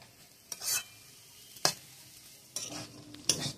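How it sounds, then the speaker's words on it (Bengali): Ridge gourd fried with egg is stirred in a pan, with four distinct scraping stirs of a spatula over a quiet background sizzle, heard close and without talk. "এবার চিচিঙ্গা ভাজাটা প্রায় হয়ে গেছে,"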